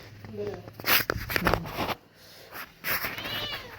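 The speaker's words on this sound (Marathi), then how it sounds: "या मांजराला काय काम नाही" A cat meows near a home kitchen where flatbreads are being made, with someone talking over and around the cries.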